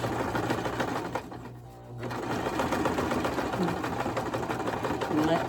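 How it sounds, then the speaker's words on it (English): A sewing machine stitches through a dish drying mat being turned into a basket, its steady motor whirring in a continuous run with a brief pause, while thunder from a mild storm rumbles faintly in the background. "Let the sewing machine do the work"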